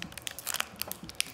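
Crinkling plastic wrapper of a Pokemon card pack being handled, a close burst of sharp crackles and rustles in quick irregular succession.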